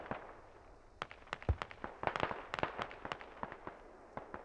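Mortar shells bursting in a Squad match on the Gorodok map, a scattered run of sharp, fairly distant thuds and cracks over several seconds, some clustered close together, with no talk over them.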